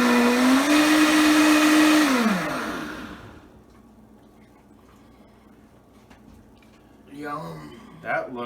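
A blender blending hot peppers whirs loudly for a couple of seconds, its motor pitch rising and then winding down to quiet, followed by a brief voice.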